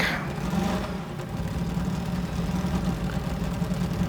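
A Mercedes-Benz W196R racing car engine in Gran Turismo 7 idles and revs with a steady mid-low drone, starting with a brief higher burst before settling into a continuous rumble.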